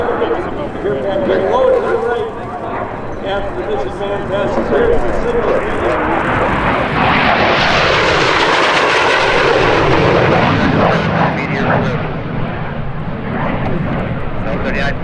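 A Gloster Meteor jet warbird flying at the EAA AirVenture Oshkosh airshow: a loud roaring jet that swells to a peak and fades, heard under continuous radio talk.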